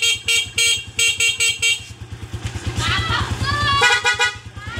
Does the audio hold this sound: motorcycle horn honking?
yes